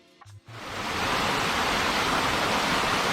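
Broadband roar of a jungle waterfall, a double cascade, rising after a brief low thump at the start into a steady, loud, continuous rush of falling water with no voices.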